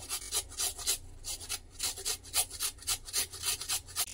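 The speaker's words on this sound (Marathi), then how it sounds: "एक छोटा तुकडा इथे बीट घेतलेला आहे, तो घालायचा आहे किसून" A small piece of beetroot is grated by hand into a suran yam cutlet mixture, making quick, rhythmic rasping strokes, close and fairly loud.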